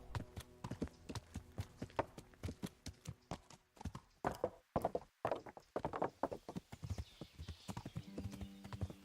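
Horse hooves clip-clop steadily in Kingdom Come: Deliverance, a dense run of close, loud hoofbeats that briefly pauses and then resumes at a trot-like pace, with no talking.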